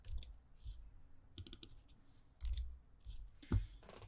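A computer keyboard clicks in short bursts as a colour value is typed into a plugin settings field, the keystrokes quiet and close with brief pauses between groups.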